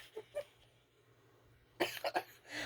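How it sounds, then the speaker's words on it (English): A few sharp coughs from one person in a quiet indoor room: two faint ones early, then a louder cluster of three or four close together near the end. "Oh, this cough."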